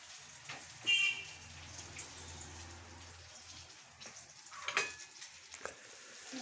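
Eggplant slices frying in oil give a quiet, steady sizzle with scattered crackles and a couple of brief sharper pops.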